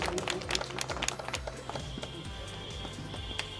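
An audience at a ceremony in a community hall claps to welcome a guest, a brief burst of scattered, uneven handclaps heard at moderate distance with a soft background hum.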